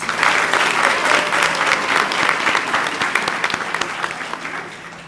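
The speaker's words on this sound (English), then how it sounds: "Give yourselves a round of applause." Graduates and families at an 8th grade stepping-up ceremony break into loud, sustained applause, a thick wash of many hands clapping close by that gradually tapers off near the end.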